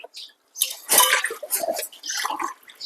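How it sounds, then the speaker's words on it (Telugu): Water poured into a cooking pot holding semolina, a splashing, trickling stream that starts after a short drip, then runs on in uneven gushes at close range. "గ్లాసు రవ్వ పోసాం కదా మూడు గ్లాసులు నీళ్ళు పోద్దాం"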